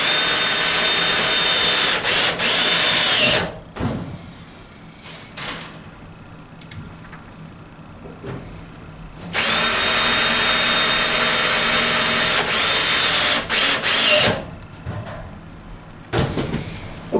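A power drill drives screws through the flange of an AtmosAir 500 Series unit into a metal air duct, heard as two long, close, loud whirring bursts separated by a quiet pause, with no talking.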